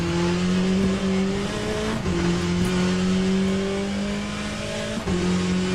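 Race car engine in Le Mans Ultimate revving high and holding steady through gear changes, two brief dips marking shifts, loud and continuous with a turbocharged drone and no voices.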